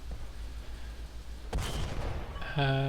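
M4 Sherman tank in a video game firing its main gun, one sharp loud blast halfway through that rings out over a low engine rumble, followed by a brief tonal chime.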